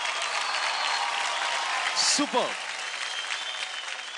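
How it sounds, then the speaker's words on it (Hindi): Studio audience on a televised dance competition show claps in a steady, loud roar of applause, with a brief cheer and a short spoken word cutting through near the middle. "तो जोरदार तालियां हो जाए."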